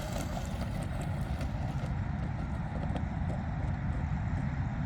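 A Traxxas Mini Rally Ford RS200 radio-controlled car makes a high-speed pass outdoors, its faint motor buzz rushing by under heavy wind noise, with scattered clicks from the surface.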